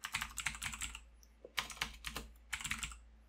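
Computer keyboard typing in three quick bursts of close, clicky keystrokes separated by short pauses, as a name is entered into a text field.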